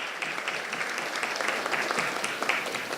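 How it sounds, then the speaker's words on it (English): A crowd at a government ministry Christmas event claps steadily, a continuous wash of applause at moderate level throughout the short stretch. "you all should give him a round of applause."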